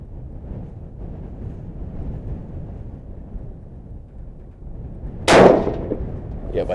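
A single sharp rifle shot from a .224 Valkyrie at an outdoor range rings out loud near the end, after several seconds of steady wind noise buffeting the microphone, followed by a brief fading echo.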